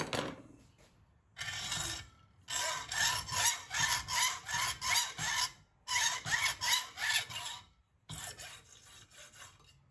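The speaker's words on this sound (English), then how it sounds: "Another way to cut brass rod is to just use a hacksaw." A hacksaw cuts through brass rod for a clock build, with quick rhythmic back-and-forth strokes in three bursts split by short pauses, close and clear with no talk.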